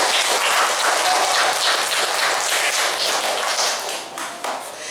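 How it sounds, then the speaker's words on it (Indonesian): A roomful of people claps steadily for two honored guests at a school farewell gathering. The applause is thick and continuous, loud and close, and tapers slightly in the final second. "Tepuk tangan untuk beliau berdua."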